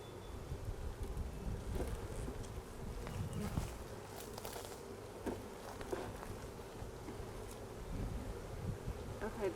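Honey bees swarm and buzz around an opened beehive, a dense steady drone close to the microphone with some wind noise and faint rumble underneath.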